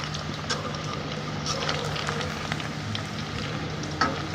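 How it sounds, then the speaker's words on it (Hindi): Chicken manchurian pieces frying in oil over a medium flame, a steady close crackle and sizzle with faint occasional pops and stirring clicks, no talk over it. "मीडियम फ्लेम पे हम इन्हें अच्छे से फ्राई कर लेंगे"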